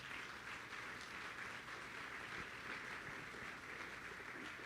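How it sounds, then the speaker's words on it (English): A faint but steady round of applause for the advisory board at a talk on America at 250, soft dense clapping heard from a distance without speech. "If we could give them a round of applause"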